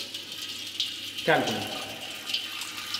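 Water runs out of a packed bed outlet into a collector during a lab flow measurement, giving a steady splashing trickle with a gurgling surge midway, under a man's brief speech.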